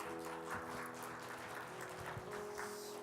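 A Korean church congregation at a revival meeting gives a faint, distant round of applause, with soft sustained musical tones underneath.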